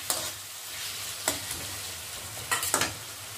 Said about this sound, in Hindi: और लहसुन का पेस्ट, इन सबको मिला के हम लोग अच्छा से कुछ समय तक जब मसाले को पकाएंगे